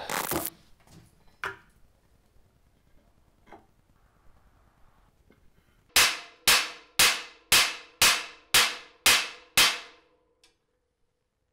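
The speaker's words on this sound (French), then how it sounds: "J'ai essayé avec un marteau, une petite masse." A hammer strikes the stuck seat post of a fixie bike: a few scattered knocks, then a steady run of eight sharp, ringing metallic blows in quick succession, close and loud.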